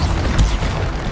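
Bombarda spell explosion in Hogwarts Legacy, a dense, sustained booming blast with rumbling low end across the whole moment and one brighter burst partway through, loud and close with no talk over it.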